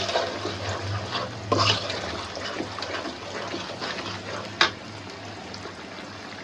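Spices and onion frying in a pan for Bangladeshi rui fish bhuna, a steady watery hiss with a low hum and an occasional sharp clatter, no voices.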